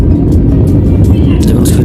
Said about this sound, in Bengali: যখন প্লেন রানিং করা শুরু করে দিয়েছে ওড়ার জন্যে